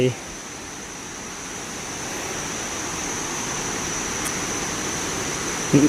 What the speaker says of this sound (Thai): เสียงน้ำตกไหล